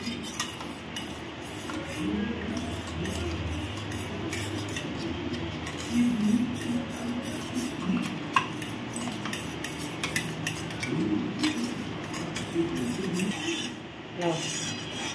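A utensil scrapes and stirs coconut pulao in a pan with continuous rasping, rubbing strokes and occasional light metallic clinks, close and steady with no talking.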